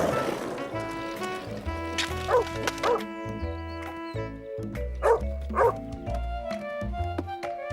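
Cartoon dogs bark playfully in several short bursts over background music, the yips spaced out and near.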